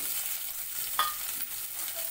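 Raw potato pieces frying in mustard oil in a kadai, a steady soft sizzling hiss through the whole stretch with one brief clink or stir near the middle.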